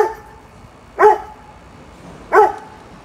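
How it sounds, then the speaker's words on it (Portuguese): A Doberman barks twice, two single loud barks about 1.3 seconds apart, close by, in an otherwise quiet indoor setting. "Não precisa latir, vem aqui"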